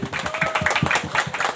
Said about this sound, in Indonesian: Tepuk tangan semua untuk museum dulu.